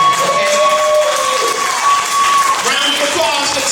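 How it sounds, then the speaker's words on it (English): Audience applause and cheering at a curvaceous fashion show, a dense wash of clapping with crowd noise that runs steadily throughout while a few voices talk and call out over it. "Round of applause for Terry J."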